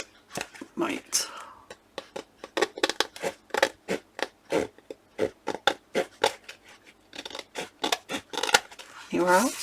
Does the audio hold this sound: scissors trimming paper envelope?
yes